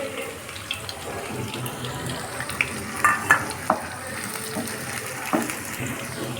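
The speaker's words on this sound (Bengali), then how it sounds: "কুচানো পেঁয়াজটাকে দিয়ে দেওয়া হচ্ছে। থেতো করা রসুনটাকে দিয়ে দিচ্ছি।" Chopped onion and crushed garlic frying in a pan, a steady soft sizzle with occasional scrapes and clinks of stirring, no talking.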